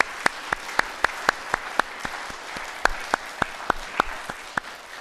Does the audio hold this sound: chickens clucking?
no